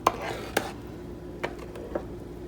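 Strawberry jam cooking down in a pot while a spoon stirs it, with a few distinct knocks and scrapes against the pot over a low steady background.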